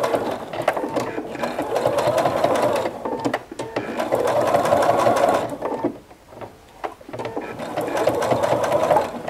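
A sewing machine stitches fabric close up in three long runs of fast, rhythmic needle clatter, with brief pauses between runs and no voices over it.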